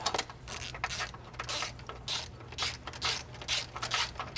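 Ratchet clicking in short bursts while subframe bolts are threaded into a BMW E90 M3 during engine mount work, close and fairly quiet with brief pauses between runs.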